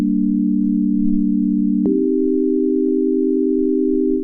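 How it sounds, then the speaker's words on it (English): A steady, smooth electronic sine tone holds throughout, stepping once to a slightly higher pitch partway through, loud and alone. "this is a sine wave right here,"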